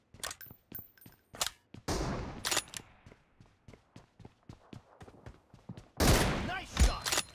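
Gunfire in PUBG team deathmatch: many sharp single shots in irregular quick succession, near and loud, with heavier louder bursts around the middle and the end.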